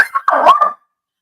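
A dog on a farm gives a single short, loud bark close by, a brief yelping call that cuts off into silence.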